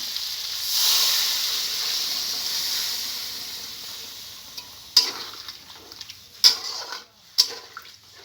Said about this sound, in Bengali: বন্ধুরা, তরকারির জলটা ফুটছে দেখুন।